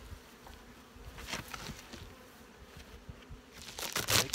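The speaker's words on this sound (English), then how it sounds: "shake the bees into the colony" Honey bees buzz around hive frames in a colony, a dense, soft, continuous hum up close with rustles and a louder swell near the end.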